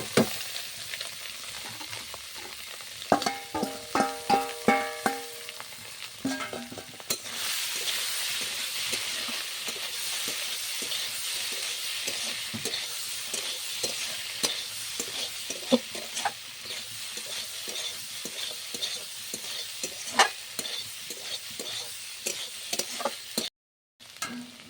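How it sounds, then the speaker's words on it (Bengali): Sliced mushrooms fry in a little oil in a home kitchen pan for a mushroom masala, a steady crackling sizzle broken by repeated scraping stirs and clinks of a spatula, close and fairly loud. "এবার মাশরুমগুলো দিয়ে ভেজে নেব।"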